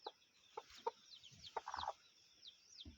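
Lemon breed hen clucking in an open-air farm yard, a few short clucks and a quick run of cackles, fairly close, with faint birdsong in the background.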